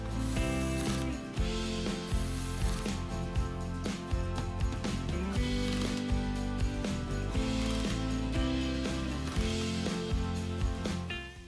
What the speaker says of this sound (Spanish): fijaros cómo actúa el embrague y frena el giro para no estropear la placa